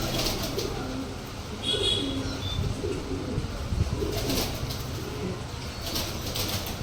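Giribaz pigeons, black-tailed and red-tailed, coo in low murmurs nearby, with scattered high chirps and a brief flutter of wings over a constant background hiss.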